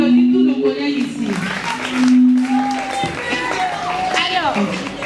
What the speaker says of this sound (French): Est-ce qu'on peut applaudir tous nos collègues ici?